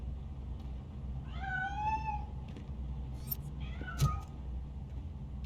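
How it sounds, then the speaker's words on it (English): A cat in the video game RoboCop: Rogue City gives two distinct meows, one drawn-out and one shorter, over a low steady rumble of game ambience. "That cat must be hiding inside. Let me lure it out."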